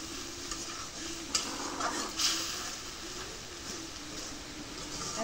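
Spices stir-fry in a pan over a home stove, giving a soft continuous sizzle with a few light scrapes and clinks of the stirring utensil up close, and no voices.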